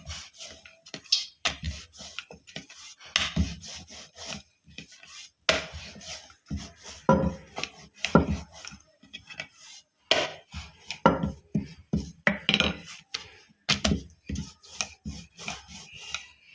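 A rolling pin works pumpkin dough into thick puris, making close, irregular rubbing scrapes and soft wooden knocks at an uneven rhythm.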